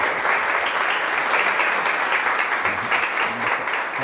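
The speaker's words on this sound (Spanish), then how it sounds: "un aplauso para ellos, ¿sí? Un aplauso." An audience claps steadily at a church talk, with dense, even applause sustained from start to finish at moderate loudness and no pauses.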